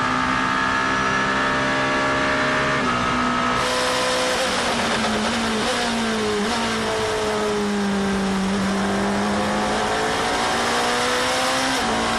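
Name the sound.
number 8 Toyota race car passing two Porsches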